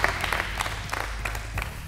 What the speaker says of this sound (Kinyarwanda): mutera amashyi